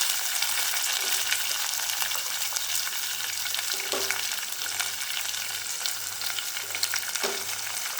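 Garlic cloves, onions and green chillies with curry leaves fry in hot oil for a Bombay chutney, a steady close sizzle running throughout with occasional soft stirring scrapes, no voices.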